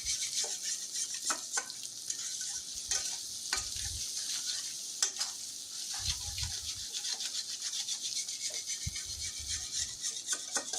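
Onion and spice masala being fried and stirred in a pan for Bengali egg bhuna, with a steady sizzle under repeated scraping strokes of a spoon against the pan. The sound is close and continuous, with no talking.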